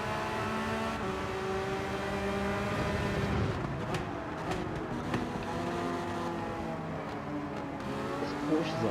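A Porsche race car engine in Gran Turismo 7 at Suzuka roars through repeated rising and falling revs with sharp gear changes, loud and close, with other cars faintly audible around it.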